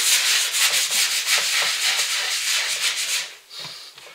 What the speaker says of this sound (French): On nettoie le plan de travail, préparé pour commencer à rouler.